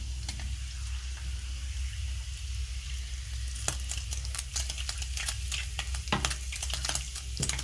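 Steady, dense sizzling of sago pearls frying in hot oil on high heat, with scattered sharp crackles and pops, close and continuous with no voices.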